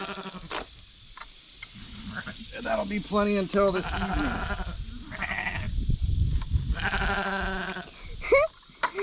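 Sheep bleat repeatedly nearby, with several wavering calls overlapping a person talking.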